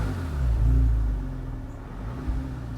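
A Porsche engine fitted with a lightweight flywheel idles with a low, steady rumble, swelling slightly partway through, with no voices present.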